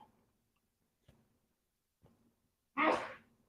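A single short, sharp sneeze near the end, fairly close, after a few faint ticks in a quiet room.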